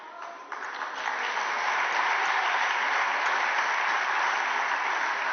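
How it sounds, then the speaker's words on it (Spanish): An audience in a parliamentary chamber breaks into sustained applause, clapping that starts thin and swells into a steady, fairly faint wash of many hands, slightly distant. "Aplaudan, aplaudan."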